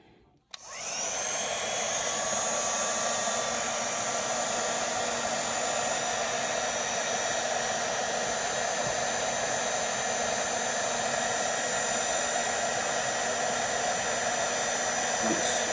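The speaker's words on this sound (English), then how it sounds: "Once your gun heats up, you can see the powder melting into the ink." A heat embossing gun runs continuously, melting embossing powder on a card: one loud, steady whirring blow with a high whine, switched on after a brief quiet start and held without a break.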